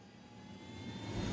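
A helicopter in the video game Ghost Recon Wildlands: a low, steady engine rumble with a faint whine that grows slightly louder toward the end, heard alone without talk.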